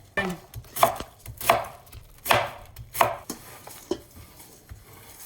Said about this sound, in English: Then you just slice it.